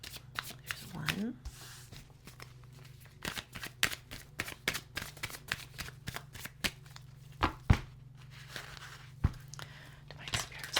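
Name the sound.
cards being shuffled and laid out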